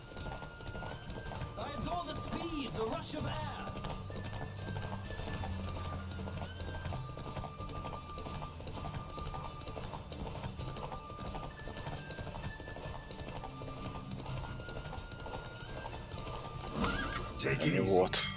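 A horse in The Witcher 3 clip-clops at a steady gallop and gives a whinny, with game music and mechanical clicks underneath and a voice talking over it.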